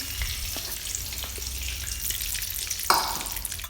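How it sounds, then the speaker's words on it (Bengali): Potatoes frying in hot oil in a home kitchen, a steady soft sizzle and crackle running throughout, fairly faint, with a brief clink of a utensil near the end. "আলুগুলি ভাজা প্রায় হয়ে গেছে"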